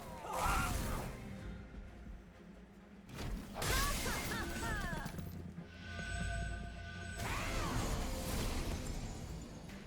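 Blazing Bolts spell effect from the deck-building game Monster Train: a few sharp crackling bursts and whooshes over continuous game music, with a strong hit near the middle and another near the end.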